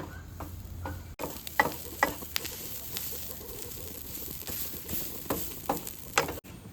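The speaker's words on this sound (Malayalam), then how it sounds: "ഇത് അതേമാതിരി നല്ലോണം മൂത്ത് വരുന്ന വരെ ഇളക്കി കൊടുക്കണം" Grated coconut and spices roasting in a pan for Onam sambar, giving a continuous close sizzle with repeated scraping stirs of a spoon throughout, nearly free of talk.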